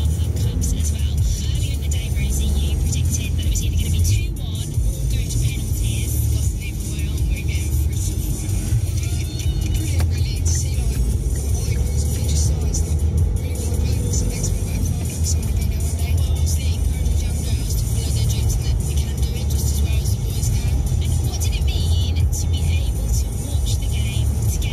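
A car drives along a road near building works in Clackmannanshire, Scotland, engine humming steadily with road and wind noise throughout, shifting down into first gear with only a subtle change in engine tone.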